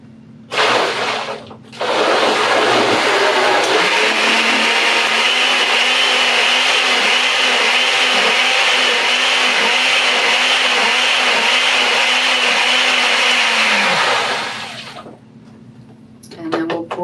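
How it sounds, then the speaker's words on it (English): A blender whirs loudly, blending paper pulp for papermaking. After a brief stop it runs steady and strong for about twelve seconds, with the motor laboring in a wobbling rhythm before winding down. "we've given this a couple minutes of blending, and I'll give it one more quick mix"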